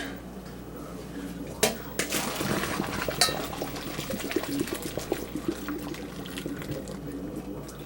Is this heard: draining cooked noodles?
yes